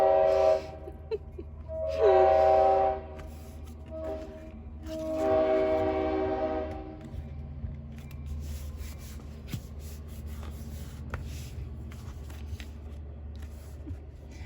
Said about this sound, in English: Wow, that train is loud.